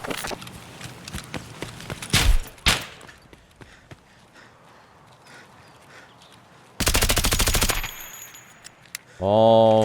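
Gunfire in Escape from Tarkov: scattered shots and quick bursts early, then a long, loud automatic burst near the end, with footsteps in between and a ringing tone at the close.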